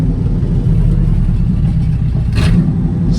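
A 1968 Ford F100 engine idling roughly on a carburetor pulled from a junkyard Granada, a close, steady low rumble with slight throttle swells and a brief hiss near the end.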